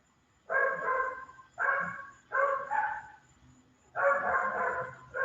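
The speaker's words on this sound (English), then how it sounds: "They're both barking at each other, and Cash is like, leave me alone." Two dogs bark back and forth at each other in a home, with repeated bursts of loud, close barking separated by short pauses; a quiet hum sits underneath.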